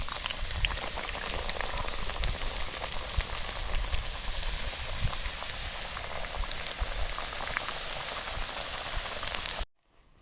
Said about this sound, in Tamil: எண்ணெய் நல்லா கொதிக்குது வடையும் நல்லா பொரிஞ்சு வந்து கொண்டு இருக்குது